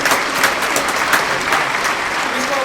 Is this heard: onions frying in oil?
no